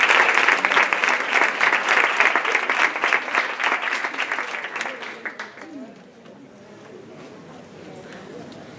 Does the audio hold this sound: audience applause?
yes